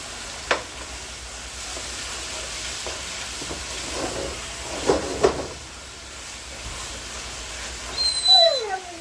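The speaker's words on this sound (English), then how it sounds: "That's my dog Sharona." Sharona the dog gives a few short, high whimpers near the end, close by in a home kitchen, over the constant sizzle of frying and stirring while taco spring rolls cook.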